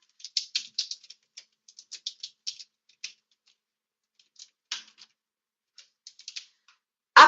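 Login details are typed on a computer keyboard in short bursts of crisp, close keystrokes with pauses between, and a louder clack at the very end.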